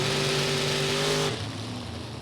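A 34 Chevy Roadster and a Grand Prix race down a drag strip, engines roaring loud and steady at full throttle, then the note drops as the cars pull away.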